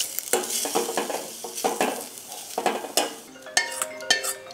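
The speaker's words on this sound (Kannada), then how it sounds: "ನೀರುಳ್ಳಿ ಒಂದು ಸ್ವಲ್ಪ ಒಳ್ಳೆ ಫ್ರೈ ಮಾಡಿ ಹಾಕಿದರೆ" Chopped onion for a Mangalorean tempering sizzles in a hot pan while a spoon stirs and scrapes it in quick, uneven strokes, with faint clinks of metal on the pan and no voices.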